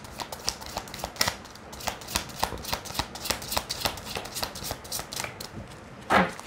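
Tarot cards are shuffled in quick, repeated riffles and taps, a steady crisp rhythm close by, ending with a slightly louder flutter.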